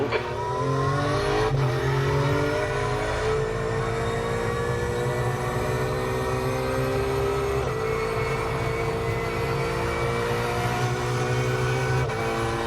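A race car engine in a racing simulator game drones steadily throughout, its pitch climbing through gear changes with brief shifts, loud and continuous with no talk.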